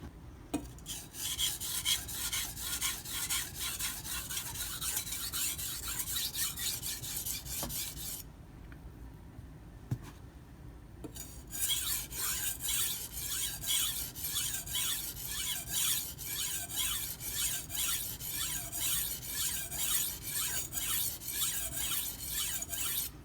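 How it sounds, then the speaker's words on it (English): A Japanese gyuto knife rasps back and forth across a whetstone in steady rhythmic strokes, close and continuous, with a short pause before the sharpening resumes. "Got a burr across the whole edge. I'm going to switch sides."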